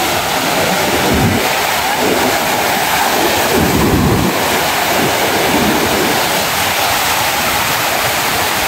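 Sea waves and wind on a Colombo beach in Sri Lanka at sunset form a loud, unbroken wash of surf with wind buffeting close by and deeper surges rolling in every few seconds.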